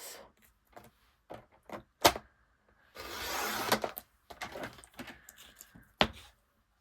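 Designer series paper being cut into a strip on a paper trimmer: sharp clicks and taps, then a longer rasping slide of the blade through the paper, close and dry in a quiet room.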